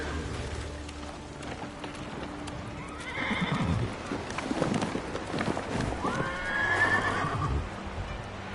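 Kage, a horse in the video game Ghost of Tsushima, snorts and clops its hooves, then lets out two clear whinnies midway and near the end, fairly close and moderately loud over soft background ambience.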